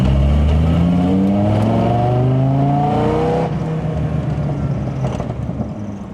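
A 600 hp Dodge Viper's engine roars loud and close as it accelerates, the rising engine note climbing through the revs and then dropping away as the car pulls hard, with steady wind and road roar beneath.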